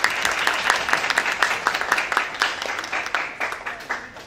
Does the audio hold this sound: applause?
yes